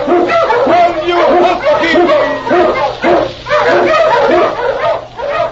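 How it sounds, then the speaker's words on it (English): An Eskimo husky lead dog, loud and close, barking and yipping in quick repeated bursts with whimpering notes between them, set in a snowy Yukon trail scene. "King, the swiftest, strongest of Eskimo lead dogs, blazes the trail through storm and snow for"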